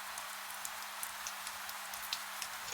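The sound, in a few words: rain at night, horror story sound effect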